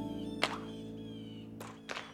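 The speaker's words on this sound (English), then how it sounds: "Daddy helped Caillou practice shooting the puck" A hockey puck is shot in a children's cartoon: two or three sharp, hollow thunks spaced apart, fairly faint over a soft steady background hum, with no speech.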